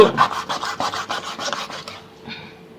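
A knife saws through a fish with quick rasping strokes, about a dozen rapid rubbing pulses in close succession, then a quieter fading scrape at the end.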